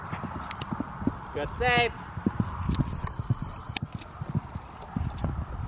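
Horse galloping away after landing a jump under a rider, rhythmic hoof beats on soft ground running steadily throughout, with a brief whinny-like squeal near the middle and a voice speaking over it.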